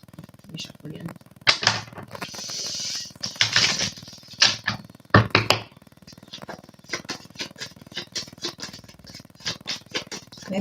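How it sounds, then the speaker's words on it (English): Tarot cards shuffled by hand at close range, giving bursts of crisp riffling clicks and rapid papery ticks in uneven runs, with a voice talking over parts of it. "Let me shuffle again."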